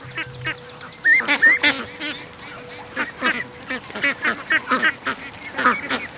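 About a dozen rescued ducks and ducklings penned together quack and honk in busy, overlapping bursts close by.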